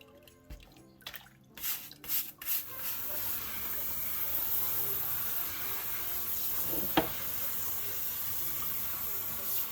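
Water from a sink sprayer blasts steadily against a pool filter being cleaned, a close hissing rush that settles into a constant spray after a few knocks and handling sounds at the start.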